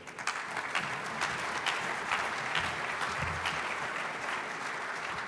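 A banquet hall crowd at a fraternity awards dinner applauds, with sustained dense clapping heard from a slight distance, steady and even for the whole stretch.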